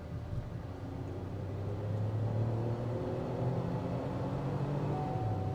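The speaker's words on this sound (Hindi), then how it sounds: "This is how the engine sounds." Engine of a 2021 MG Astor turbo petrol automatic on a race track: a steady, low, droning hum that swells slightly and holds, heard from inside the car with no talking.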